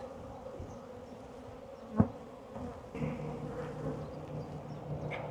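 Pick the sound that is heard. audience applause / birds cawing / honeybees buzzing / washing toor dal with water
honeybees buzzing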